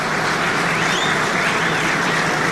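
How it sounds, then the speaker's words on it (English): Light, scattered applause from a large Premier League stadium crowd, a continuous patter of distant clapping filling the background. "you can hear the smattering of applause throughout this Premier League season"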